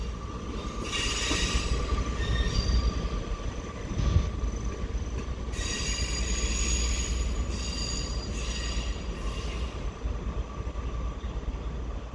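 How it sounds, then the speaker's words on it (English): A train rolls past at Stockport with a constant low rumble while its wheels squeal on the rails in several high-pitched bursts, loud and close, with no talking. "that's into its next stop of Stockport, making a loud squeal"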